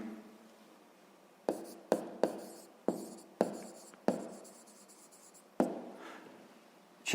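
Pen or pencil strokes during a sixth-grade math exercise, a series of sharp taps and short scratches at an irregular rhythm, close and quiet with no talk.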